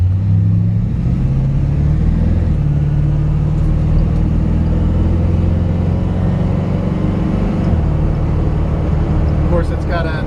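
A 1968 Corvette powered by a 350 V8 crate engine with an automatic gearbox, cruising with a continuous deep rumble and a couple of shifts in engine pitch, while someone talks over it.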